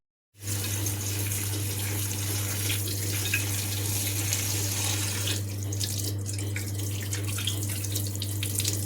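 Water drains off a pan of cooked chillies in a kitchen, making a steady gushing flow that starts abruptly and runs continuously over a low constant hum, with no talking.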